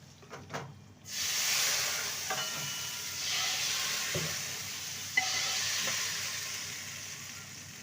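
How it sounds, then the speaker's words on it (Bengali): A fried radhuni tempering is poured into a simmering katla fish and vegetable curry. After a few quiet knocks, a sudden sizzling hiss bursts up and keeps frying steadily with small clicks, and no one speaks. "এবার রাঁধুনি ফোড়নটা ঝোলের মধ্যে দিয়ে দেবো"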